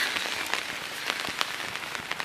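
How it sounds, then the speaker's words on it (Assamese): Steady rain falls around a person walking outdoors under an umbrella, a dense even hiss broken by scattered sharper drops and taps close by. "আৰু বৰষুণটো দিছে মোবাইলটো তিতি যাব ছাতিটো অকণমান ঢাকি লওঁ"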